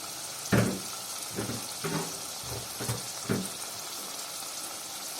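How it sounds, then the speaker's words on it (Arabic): Rice, fava beans and garlic sautéed together in a pot, with a steady sizzling bed broken by several stirring scrapes and clatters at regular intervals, close and moderately loud with no talk. "اشوح بقى الرز كويس في الفول عشان يبقى مفلفل معايا"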